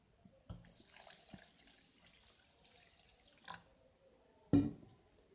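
Water poured over millet grains in a bowl to wash them, a gentle pouring splash starting after a short pause and running several seconds, ending with a louder splash near the end, no talking.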